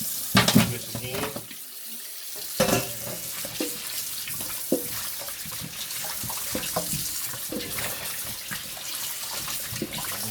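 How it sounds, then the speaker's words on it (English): Tap water runs steadily into a cooking pot while oxtail is being rinsed, a continuous splashing flow with a brief gap near the start and small clatters throughout, fairly close. "we're going to put some more water in here on this side over here"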